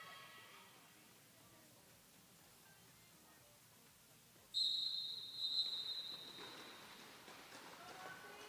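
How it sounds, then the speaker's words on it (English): A referee's whistle blasts once, sharp and fairly loud, to start a jam in a roller derby game between Columbia and New England, over quiet arena ambience with crowd noise rising after. "Is that a two-whistle start?"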